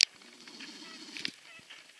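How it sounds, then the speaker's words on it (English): Goose honking outdoors at a spring swamp, a short honk near the middle over quiet background, with a few faint clicks and rustles around it. "Goose is making a break for it."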